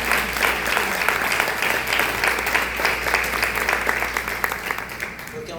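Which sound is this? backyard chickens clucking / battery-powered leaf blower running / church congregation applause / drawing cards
church congregation applause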